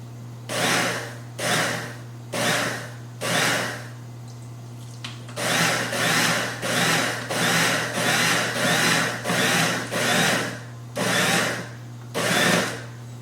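A food processor pulsing pie crust dough for a plum galette: about a dozen short, even whirring bursts in a steady rhythm with a low motor hum underneath, close and moderately loud, with no voices.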